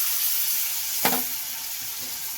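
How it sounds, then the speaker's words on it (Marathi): Bitter gourd slices pan-roasting in a hot pan give off a steady, close sizzle and hiss, broken once by a short knock from stirring. "कारली भाजत आलेत आता"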